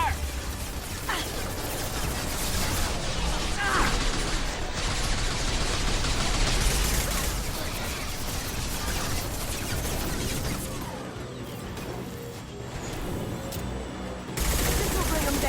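Heavy gunfire in Mass Effect 2 as a dense, continuous barrage of shots and impacts, loud and close throughout, with voices calling out over the combat.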